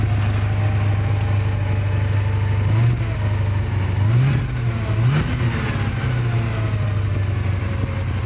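A Porsche 928 V8 engine warm-started and idling with a steady low hum, then revved in a few short rising and falling blips before settling back to idle, loud and close.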